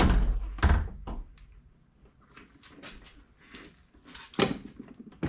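The rear door of a 2011 Saab 9-5 comes off after its 10mm bolts are removed, with a few quiet, dull thunks and clunks spaced through a hushed workshop background.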